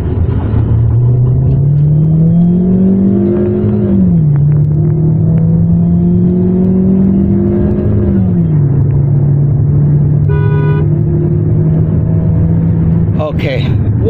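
A 2020 Jetour X70 SUV accelerates hard from a standstill toward 100, its engine droning steadily and rising in pitch through each gear before dropping at the shifts, with road rumble underneath throughout.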